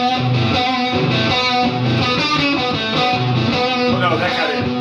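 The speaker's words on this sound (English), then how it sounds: "It says lead guitar" Distorted electric lead guitar from the Apex Legends Fuse lobby music plays loud and continuous, with sustained bent notes over a dense, steady backing.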